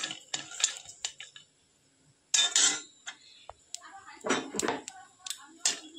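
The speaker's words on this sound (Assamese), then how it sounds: "কেৰাহীত মই বাদাম দি দিছোঁ। মই বাদামখিনি ভাজি লওঁ।" Peanuts dry roasting in a kerahi (wok) give off intermittent close scraping and light rattling clinks, with quiet gaps between bursts of stirring.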